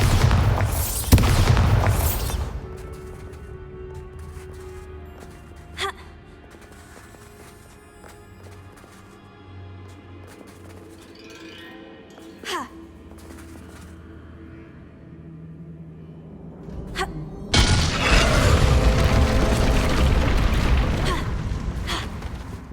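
A Bombarda spell explosion from the game Hogwarts Legacy: a loud, broad blast opens, followed by low rumbling debris, faint thuds, a couple of sharp cracks and a second heavy burst near the end.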